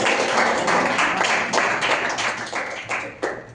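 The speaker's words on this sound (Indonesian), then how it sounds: "tepuk tangan untuk Anselin" Students in a classroom clap for a classmate named Anselin after her presentation, a short round of close, brisk applause with individual claps standing out as it fades.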